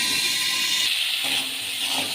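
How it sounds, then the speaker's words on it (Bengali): Raw mango pieces drop into hot oil already crackling with mustard seeds, setting off a steady, close hissing sizzle that swells after the first second and holds. "এবার আমগুলো দিয়ে দেবো।"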